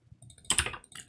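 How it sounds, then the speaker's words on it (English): A short flurry of close keystrokes on a computer keyboard: a faint tap, then a dense cluster of clicks, then a final keypress, all alone with no speech. "Let me just type it again."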